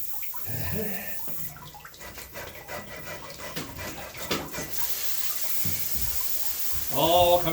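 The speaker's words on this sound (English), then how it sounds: "Here comes the water." Water from a broken well line rushing downhill on a winter evening, a steady broad outdoor wash running for several seconds, with short bursts of voice at the start and end.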